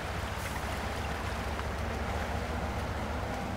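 Rushing river water roars steadily in Spintires MudRunner, a dense, unbroken wash of noise around a vehicle being carried by the current, with no talk.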